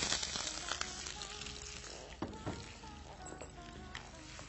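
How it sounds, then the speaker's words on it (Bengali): Chopped onion frying in hot ghee and oil, a steady close sizzle with faint crackles and occasional soft stirring clinks throughout, no talking. "আমার ঘি তেল গরম হয়ে গেছে, আমি এখন এটাতে পেঁয়াজ কুচি দিই।"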